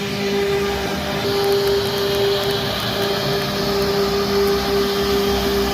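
Machine carving a design into a double-leaf neem wood door, a loud, steady whining drone with a constant tone running unbroken throughout.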